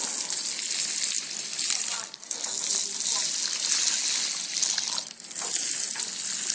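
A watering can pours water over newly planted chili and vegetable plants in a garden, a continuous bright splashing hiss that dips briefly twice as the can is moved.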